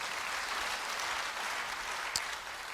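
Steady applause from a church congregation during a sermon, a dense wash of clapping that holds evenly throughout with a brief sharper clap near the end.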